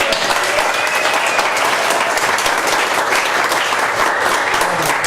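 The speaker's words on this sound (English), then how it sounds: "Let's give him one more round of applause." A studio audience on the game show Choke! gives a steady, dense round of applause that fills the whole stretch at full, even loudness with no pauses.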